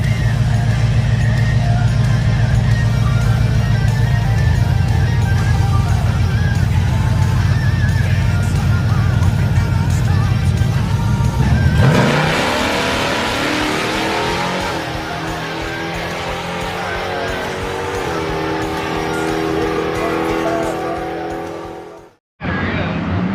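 A stock-motor race truck at a racing event revs hard with a loud, sustained engine roar, shifting pitch around the midpoint as it runs, then cuts off sharply near the end before a brief return.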